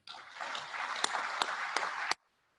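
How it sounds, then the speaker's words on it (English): Audience at a business awards event for the 2020 fastest growing companies applauds in a steady, dense wash of clapping with a few sharper claps standing out, ending abruptly after about two seconds. "let's give everybody here another round of applause"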